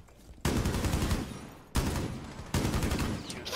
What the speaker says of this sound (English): I shot him in the head, there's blood on the wall